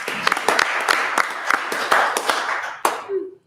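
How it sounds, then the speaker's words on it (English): Applause from a small audience at a town council meeting, honoring a volunteer award recipient: dense, fairly close clapping for about three seconds, tapering off at the end. "so a big round of applause for Debbie Swick."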